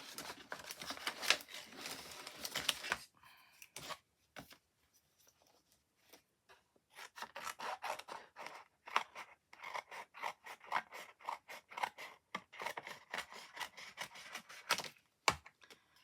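Scissors snip through a stamp stencil at close range, a pause, then many quick crisp cuts and rustles that keep going, faint overall.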